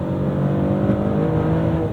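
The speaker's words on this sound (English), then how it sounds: "Really feel each gear shift. You can hear that engine very front and center." The engine of a 2025 Maserati Grecale Trofeo drones loud and continuous from inside the cabin as the SUV accelerates through its gears, with a steady rumble and no talking.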